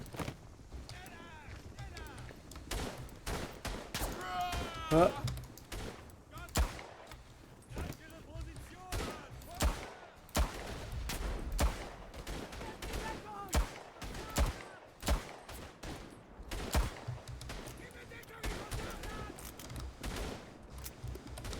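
Pistol and other gunfire in the World War I shooter Tannenberg, with a 305mm gun mentioned: repeated sharp shots scattered irregularly through a busy battlefield din, some close and punchy, others more distant, with occasional voices and footsteps.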